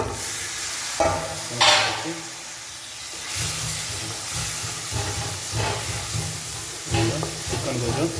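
Chicken sizzles and hisses steadily in a hot pan with tomatoes, with occasional scraping and clanking from stirring, close by.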